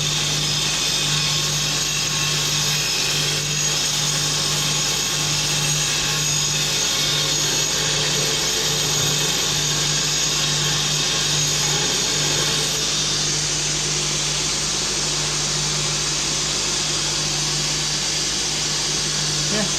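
A power tool runs steadily on a finer wheel, smoothing a surface on a Porsche 911, loud and close with a continuous whirring grind held for the whole stretch and no talking over it.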